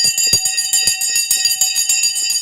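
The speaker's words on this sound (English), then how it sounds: "The bell has gone." Stock market closing bell ringing continuously and loudly, a bright sustained metallic clang repeating rapidly for the full duration with no voices.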